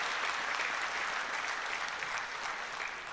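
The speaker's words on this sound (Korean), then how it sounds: "우리 한번 인사할 때 큰 박수로 축복해 주세요" A church congregation on Thanksgiving Sunday gives steady, dense applause to bless newly baptized members, an even wash of clapping with no voices over it.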